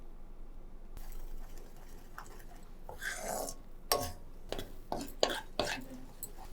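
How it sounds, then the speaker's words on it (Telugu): A spoon scrapes and stirs a thickening sweet mixture browning in a pan for a Sri Rama Navami festival sweet, giving several rough, irregular scrapes after a quiet start. "ఇది కలర్ చేంజ్ అయ్యేంత వరకు మనం కలుపుతూ ఉండాలి"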